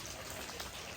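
Steady rain on a forest hiking trail, a dense even patter of drops filling the short moment without a break, fairly faint and with no voices.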